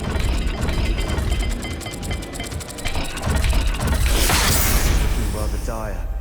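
Stone gate mechanism grinding open in the Hogwarts Legacy video game, a loud continuous rumble with ratcheting clicks and a rising whoosh, layered over game music and ambience, with voices over it.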